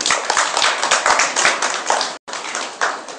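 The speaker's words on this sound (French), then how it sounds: "Je vous demande d'applaudir." Audience applause at a seminar, a smaller group clapping in uneven bursts, close and fairly loud, with a brief gap near the end before clapping resumes.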